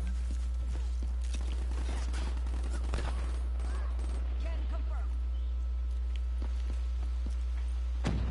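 Rapid gunfire bursts from the Black Ops 3 beta game, sharp repeated shots scattered through a busy, noisy mix of game effects under a steady low hum.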